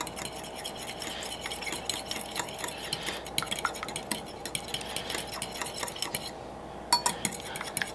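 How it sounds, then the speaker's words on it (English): Egg wash for mini pork pies being whisked in a bowl, a utensil stirring and clinking steadily against the dish at close range with small louder taps, no talk. "we're just going to combine this together to make a nice little wash for the pies"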